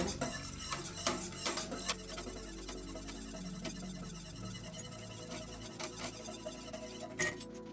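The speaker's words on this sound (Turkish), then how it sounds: "karıştırıyorum." A spoon stirs a pot holding sugar for a caramel pudding, giving irregular clinks and scrapes against the metal over a soft background hum, with no voices.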